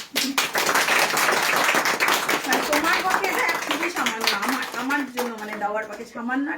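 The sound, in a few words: audience clapping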